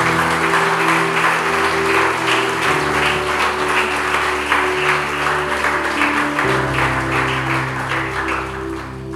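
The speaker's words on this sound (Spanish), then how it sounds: "Dale un aplauso al Señor." A church congregation claps in sustained applause during a Spanish-language sermon, a dense, loud wash of hands that holds steady for several seconds with a low hum beneath.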